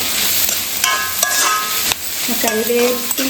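Curry leaves stripped by hand into hot oil in a home kitchen, a loud close crackling sizzle across a few seconds, broken by short sharp pops and spits.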